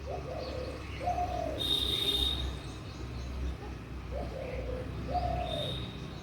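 Small birds call near a garden, faint soft cooing and chirping phrases repeating at a distance over a steady background of insect buzz and low hum.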